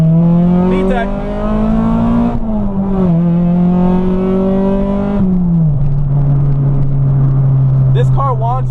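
Acura Integra engine with VTEC and a 7,000 rpm rev limiter, held at high revs near the limiter, a loud steady tone that rises and dips slightly, close and continuous under a voice.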